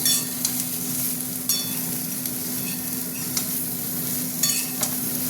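Young jackfruit stir-frying in a pan for a spicy prawn curry, giving a steady sizzle with a few stirring scrapes and clinks, close and continuous with no talking.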